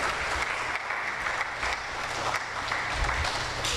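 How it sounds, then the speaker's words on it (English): An audience claps steadily to welcome a speaker at a research day session, a dense even wash of applause filling the room throughout. "Let us give him an applause and a welcome."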